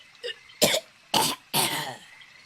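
A man gives a hoarse, phlegmy cough as he clears a chesty throat: one small burst followed by three loud, harsh bursts in quick succession, close up and with no speech.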